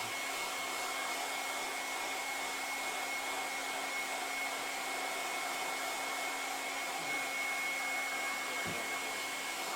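A hair dryer blows in a steady, unbroken rush of air with a constant motor whine, close and fairly loud, with no talk.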